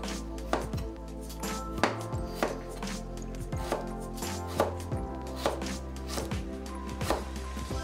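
A knife cutting fresh ginger root on a board, with crisp close repeated chops and scrapes at an irregular, steady pace, without talk.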